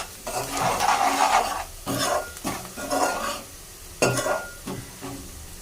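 A spoon scrapes and stirs chicken with turmeric in a pan for a spicy chicken curry, close and loud, in repeated sweeping strokes with faint sizzling and no talking.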